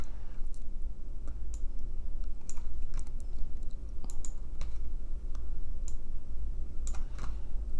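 Computer mouse clicks come while colors are picked from an image, sharp light clicks arriving in irregular bursts over a quiet room hum, close and fairly steady.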